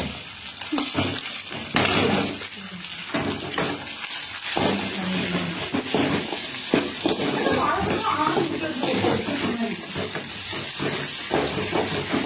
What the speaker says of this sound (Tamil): ஒரு வதக்கிட்டு இருக்கோம்.